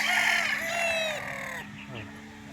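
Gilmore Hatch gamefowl roosters, crossed with golden boy, crow loudly and near at a gamefarm in Tanauan, Batangas, with a drawn-out crow followed by shorter clucks and calls as the sound trails off.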